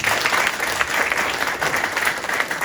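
Sustained applause from the audience at a Gwangmyeong legislative forum on protecting traditional markets and small merchants, steady dense clapping filling the hall throughout with no speech on top.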